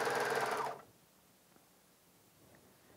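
A Bernina 700D serger stitches fabric piping in a fast, close mechanical whir that stops abruptly after less than a second, leaving near silence.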